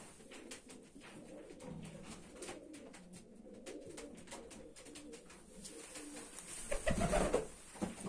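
In a racing pigeon loft, a speckled pied Mulemans-line cock from 2019 coos in soft, low repeated phrases amid other birds, with a louder burst of cooing and fluttering near the end.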